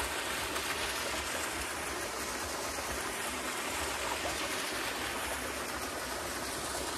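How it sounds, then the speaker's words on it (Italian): Waterfalls and a stream rushing through a mountain gorge, a dense, steady roar of falling water that fills the whole stretch evenly with no pauses or voices. "E qua avanti ci sono altre cascate, guardate."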